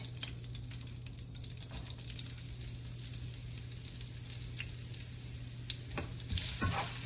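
Onion frying in oil with garam masala for a chicken korma, giving a steady close sizzle with scattered stirring clicks and a louder crackle near the end, and no talking.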